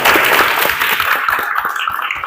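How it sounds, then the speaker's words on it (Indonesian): Students in a classroom clap together, a loud dense burst of hand claps close by that thins slightly toward the end, with no talking over it. "Tepuk tangan lagi."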